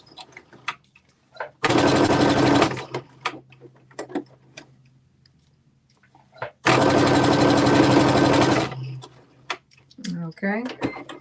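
Two sustained bursts from a domestic sewing machine running a straight stitch at 3.0 mm length, roughly a second and two seconds long, with quiet clicks and handling between them while sewing a garment pocket.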